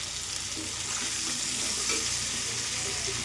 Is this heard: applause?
no